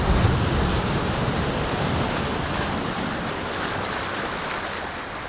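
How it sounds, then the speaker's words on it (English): Ocean surf rolls in against the rocky shore by Portland Head Light in Maine, a broad, steady wash of crashing water with wind noise on the microphone, loudest at the start and slowly easing, with no voices. "Figured you couldn't hear me when that wave was coming in anyway"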